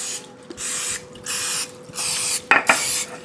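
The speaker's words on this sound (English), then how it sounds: "We're just going to spray it with the non-stick spray." Non-stick cooking spray hisses into a mini muffin pan in several short bursts of about half a second each, separated by brief pauses, with a couple of light metallic clinks from the pan near the end.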